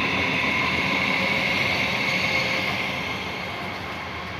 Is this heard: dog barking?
no